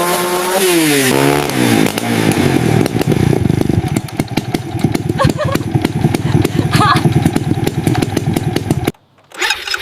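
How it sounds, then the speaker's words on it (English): Small moped engine revved hard, a loud, raw buzzing drone with rising and falling revs that runs continuously close to the microphone before cutting off abruptly near the end. "The woman finished her ride by revving the engine hard, letting the machine sing one last goodbye."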